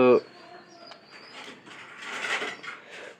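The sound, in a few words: pigeons cooing in a pigeon house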